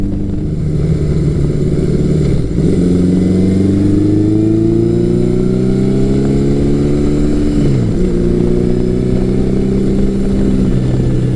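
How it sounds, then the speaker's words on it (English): A 1980s Yamaha muscle motorcycle pulls hard out of corners, its engine note climbing steadily through the revs, with two quick dips at gear changes. The sound is loud and close. "Acceleration out of the corners is smooth and strong."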